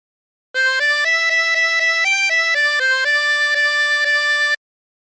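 A reedy tremolo harmonica plays the melody of "She'll Be Coming Round the Mountain" in short sustained notes, alone in a steady rhythm with a slight wavering tremolo, ending cleanly.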